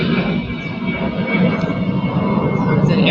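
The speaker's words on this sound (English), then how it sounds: "It's an airplane." A fixed-wing airplane passes overhead as a steady, broad roar that holds loud and continuous throughout, with a faint thin whine riding on top.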